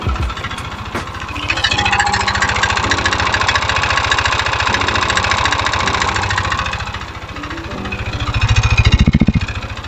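A Yamaha NMAX 155 V1 scooter engine with a worn connecting rod runs close and loud, its idle carrying a rapid, even metallic knocking that swells briefly with a blip of throttle near the end.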